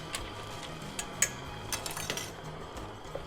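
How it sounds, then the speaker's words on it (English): Spiral pasta noodles being stirred in a pot give a quiet series of scattered clinks and taps of utensil against metal, faint and irregular over a low kitchen background. "Noodles in. Give it a quick little stir here."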